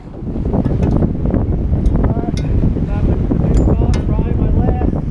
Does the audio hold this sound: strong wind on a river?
yes